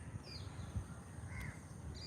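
Grey-necked crows cawing in the morning at a Colombo cemetery, a couple of distant harsh calls over low outdoor hum, faint and brief.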